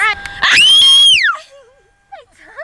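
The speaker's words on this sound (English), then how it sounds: "no screaming" A child lets out a loud, piercing high scream inside a car during a driving lesson, sustained for under a second before tailing off, with brief faint voices afterward.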